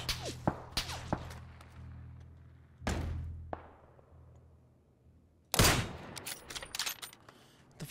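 Gunfire in the battle royale game PUBG: sharp shots and thumps in scattered bursts, one loud volley near the start, another near the end and a few isolated cracks between, with a low engine-like drone underneath.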